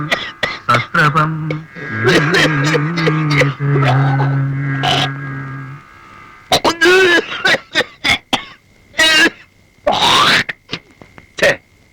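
A voice sings or chants for several seconds, then a person coughs and hacks in harsh, irregular bursts, close and loud.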